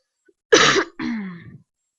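A person with a cold clears their throat in two close, rough bursts, the first harsher and the second longer, with silence around them.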